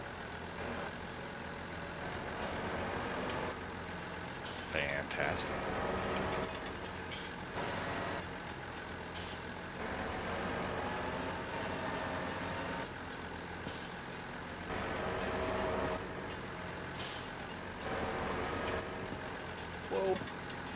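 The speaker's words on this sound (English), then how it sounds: "Oh, you can adjust the individual volumes of the tractors?" Tractor engines from Farming Simulator 19 drone steadily at mid distance, with a rumbling idle broken by occasional hiss-like bursts and clanks, while a voice briefly speaks over the machinery.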